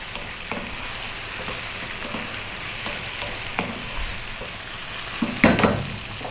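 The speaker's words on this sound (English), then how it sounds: "we're going to go for about another 3 or 4 minutes, stirring it around" Cherry tomatoes, garlic and pasta fry in olive oil in a pan, a steady close sizzle broken by scraping stirs and a few louder clatters near the end.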